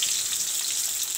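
Onion fries in a pan with dried red chillies for dhaba-style butter chicken, giving a steady, dense, hissing sizzle that stays even and close for the whole stretch with no voices.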